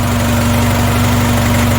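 Engine of a Jinma 4 tractor, a Chinese forty-horsepower model, idling steadily up close, a loud continuous low rumble with a constant drone and fine rhythmic pulsing, no talk over it.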